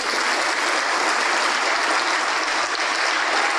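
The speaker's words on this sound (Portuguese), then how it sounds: "Vamos aplaudir mais, está chegando mais." A church congregation applauds in a dense, steady roar of clapping that stays loud and even throughout, with no voice over it.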